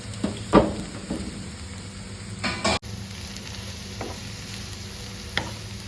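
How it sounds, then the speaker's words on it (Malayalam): Mushrooms, green chillies and onion fry in a hot pan with a steady close sizzle, broken by a few louder scrapes and knocks of the spoon as the mix is stirred. "ഇതിലേക്ക് അരിഞ്ഞു വെച്ചേക്കുന്ന മഷ്റൂമും പച്ചമുളകും കൂടെ ഇട്ട് കൊടുത്തിട്ട് നമുക്ക് വീണ്ടും ഇളക്കി കൊടുക്കാം."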